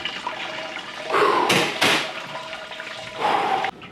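Sparge water poured during all-grain brewing of a black rye IPA, a loud rushing splash of water in two or three bursts with trickling between them.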